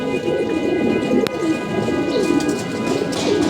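Pigeons arriving to roost at dusk, with soft cooing and a dense bird chorus filling the air continuously, close and fairly loud throughout.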